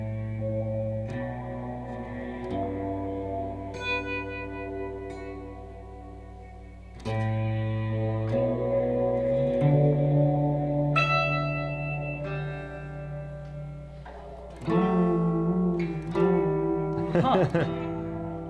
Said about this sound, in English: Then we have the sunlight reverb from Old Blood Noise on the low E.